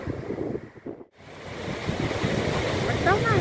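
Sea waves crash and roll in loud, steady surf on a windy shore while fishing, with a brief lull before the wash builds again; faint voices can be heard at the end.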